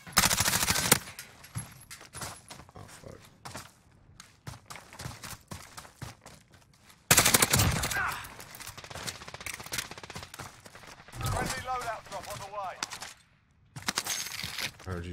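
Call of Duty Warzone gunfire crackles in sharp automatic bursts and single shots, loud and near at times, broken by quieter gaps, with a player talking in between.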